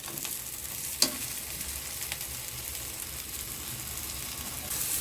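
Shrimp cakes fry in a pan, pan-fried until golden on both sides, giving a steady, even sizzle and hiss throughout with one brief sharp tick near the start.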